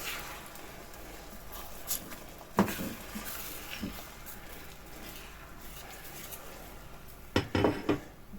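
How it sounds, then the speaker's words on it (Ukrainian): Scrambled eggs stirred in a frying pan over a gas flame, a quiet steady background with a few soft scrapes and taps of the utensil against the pan, a small cluster of clinks near the end, close and without talk. "І тепер відправляємо це все у сковороду і починаємо помішувати."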